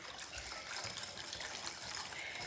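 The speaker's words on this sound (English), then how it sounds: "Whisk this bad boy up with the brown sugar in here." Honey being whisked with brown sugar in a bowl, giving a continuous wet, swishing churn that sounds almost like running water, steady and close for a couple of seconds.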